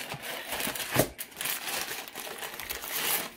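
Aluminium foil crinkles and crumples close up while a hamburger foil meal is wrapped, irregular rustling bursts with a sharper crunch near the start, no talking.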